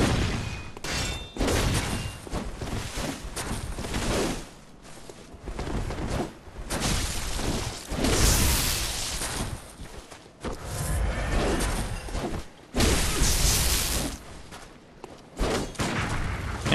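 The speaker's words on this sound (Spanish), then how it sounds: "¿Me habéis visto ese intercambio de disparos?" Dense bursts of gunfire in Bloodborne rattle back and forth in rapid volleys with thuds and booms, loud and continuous with brief lulls.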